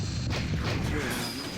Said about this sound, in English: Let's get some explosions going